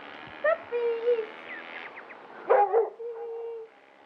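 Puppies let out a series of high thin yips and whimpering barks in short scattered bursts, some overlapping, fairly close by in a quiet outdoor setting.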